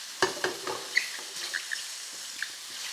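Sliced mushrooms browning in hot oil in a pan, a quiet sizzle with scattered small pops and a few stirring clicks near the start, no voices.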